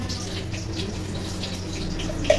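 Tap water runs steadily into a kitchen sink while hands are washed during cooking, a constant close splashing hiss with a small clink near the end.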